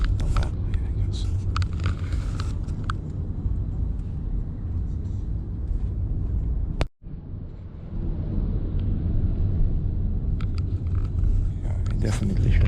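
Steady road rumble from inside a hybrid luxury sedan taxi in Tainan, a continuous low engine and tyre drone with one brief dropout midway.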